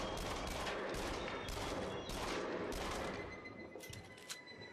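Rapid bursts of gunfire in the Until Dawn: Rush of Blood shooter game, Haunted Lodge level: loud, dense volleys of shots in repeated clusters that thin out and soften toward the end.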